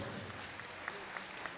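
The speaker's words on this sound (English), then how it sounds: "let's give them a nice round of applause" Faint, distant applause from a crowd at a busy fairground, a steady wash of clapping with a few sharper claps standing out.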